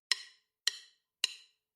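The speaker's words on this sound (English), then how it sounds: "That's the sound of drumsticks" Four sharp wooden clicks at a steady, even pace, each ringing briefly before silence, like drumsticks striking together to count in a beat.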